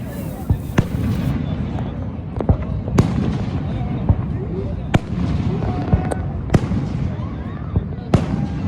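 Fireworks at Niagara Falls burst in a steady series of sharp, distant pops and bangs about every second, over a continuous low crowd murmur and rumble.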